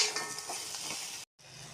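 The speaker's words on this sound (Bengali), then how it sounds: "এখন এটির সাথে সম্বাসের সাথে ভাজা করছি।" Potatoes and pointed gourd frying in a pan with oil, a steady close sizzle with faint stirring, cut by a brief pause near the end before the sizzling resumes.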